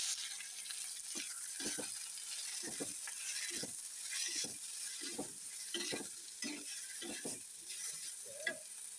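Sliced onions sauté in oil in a pan for an eggplant dish, a soft sizzle with repeated spatula scrapes and stirs at an even pace, close by and fairly quiet, no voices.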